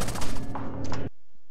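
A fast burst of gunfire in the video game Rainbow Six Vegas 2 rattles loudly for about a second, then cuts off abruptly into near silence.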